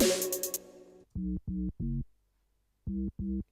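Grime instrumental production with a sinoid fold saturator distortion effect: a bright burst of sound opens, then a few short, chunky, buzzing distorted stabs play in a clipped rhythm with gaps of silence between them, close and alone.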